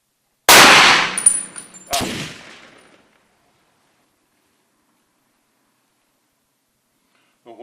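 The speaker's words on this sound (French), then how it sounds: "Et on va essayer un premier tir." A Beretta ARX Argo carbine fires one sharp, loud rifle shot up close, followed by a second metallic crack and a decaying ring, then near silence.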